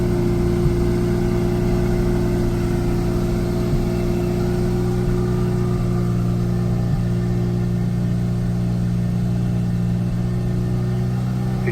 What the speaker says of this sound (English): the engine revs have increased, as though something's just switched on, switched off, got up to temperature